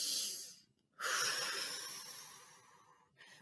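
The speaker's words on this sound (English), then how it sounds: "We take a breath by breathing in our nose and blowing it out of our mouth" A deep breath is drawn in through the nose and blown out through the mouth: a short airy inhale, a pause, then a long, fairly loud breathy exhale fading out, heard up close.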